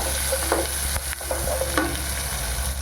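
Onions sautéing in a pan for a rava upma with bitter gourd, a steady close sizzle broken by a few scraping stirs of the spoon, with no talking.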